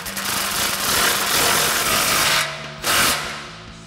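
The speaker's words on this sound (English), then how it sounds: "Then we're going to snug this clamp down with our 15 mil socket." A 15 mm socket snugs down a muffler clamp during an exhaust install. The tool makes a close, steady whirring buzz that briefly drops off near the end, then surges back. No one talks.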